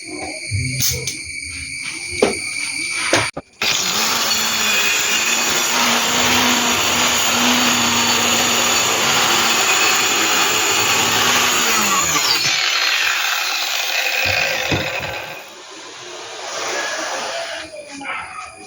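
A power saw cuts through a wooden plank being prepared for a gap-free joint, whirring loud and steady for about nine seconds after a brief start-up, then dying away, with a few tool knocks before and after.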